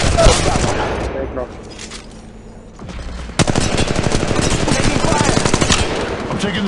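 Automatic weapon fire in the mobile shooter Apex Legends Mobile: loud, rapid bursts at close range that drop away briefly, then return as dense, sustained shooting.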